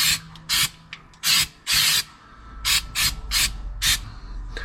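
Undercoating sprayed inside the cab of a 1961 Apache Suburban in short, loud hissing bursts, about eight blasts of varying length with brief pauses between them.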